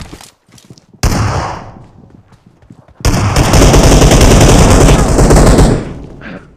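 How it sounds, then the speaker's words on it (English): Video game gunfire in loud bursts: a short burst near the start, then a long sustained rapid volley of shots from about three seconds on, close and harsh, with a few faint sounds between. "They're fucking shooting me."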